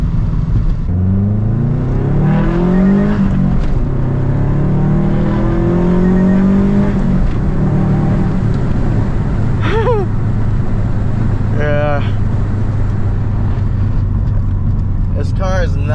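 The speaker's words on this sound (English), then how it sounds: "This car is not that fast at all, but it's very fun to drive." A car drives on city roads near an airport, with a steady engine hum and road rumble and some rising revs. Someone talks over it in the first half.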